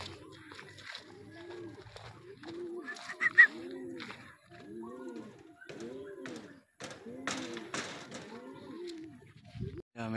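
Racing pigeons at their loft coo in a steady run of soft, rounded calls repeating about every second, close and clear, with people talking quietly over them and a few thumps.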